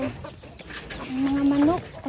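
A chicken clucks close by, ending in a short rising squawk, with faint background noise around it.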